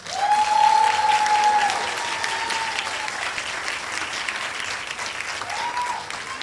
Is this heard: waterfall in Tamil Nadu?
no